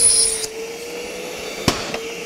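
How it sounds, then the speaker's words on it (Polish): A cordless vacuum cleaner runs steadily at maximum suction, a constant high-pitched motor whine and airflow hiss, close and even, with a couple of brief knocks partway through. "robimy to na zasadzie uruchomienia odkurzacza na maksymalnym podciśnieniu"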